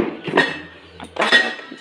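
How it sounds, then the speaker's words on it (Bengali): A lid is set over a hot dish, giving a couple of light metallic clinks and clatters, close and clear in a quiet kitchen. "প্রচুর গরম তো তুলতে অসুবিধে হচ্ছে, এই জন্য ঢাকাটা দিয়ে দিই।"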